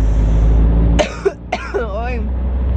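A woman who has a cough with phlegm gives two short, harsh coughs close to the microphone, the second trailing into a strained voiced breath, over a steady low hum.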